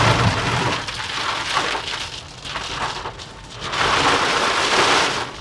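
Heavy rain drums steadily on a car during a road drive from Delhi toward the hill station of Chail, rising and easing in dense hiss with occasional heavier bursts, no voices present.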